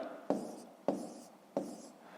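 Pen or pencil strokes on paper while a math answer is written down, three short distinct scratching marks at a steady pace, close and fairly quiet with no talking.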